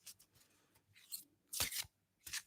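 Tarot cards being shuffled during a card reading, heard as soft papery riffles and slaps in a few short bursts, the strongest around the middle and near the end, with no talking.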